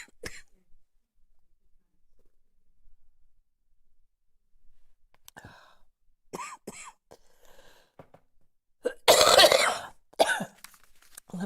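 A woman coughs and clears her throat in close, dry bursts between quiet stretches of breathing and soft sounds. The loudest coughing fit comes near the end.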